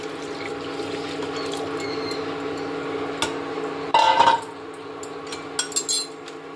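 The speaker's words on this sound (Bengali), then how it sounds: "এবার এই তরমুজের রসটা কড়াইতে দিয়ে দিলাম" Watermelon juice is poured into a wok on an induction cooker in a brief, splashy burst with a faint clink, set against a steady low hum.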